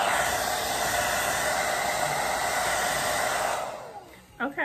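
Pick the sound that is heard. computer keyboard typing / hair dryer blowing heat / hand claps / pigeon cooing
hair dryer blowing heat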